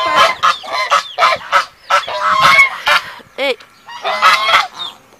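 Geese fighting on a small farm, honking loudly and close in rapid, overlapping bursts with brief gaps between them.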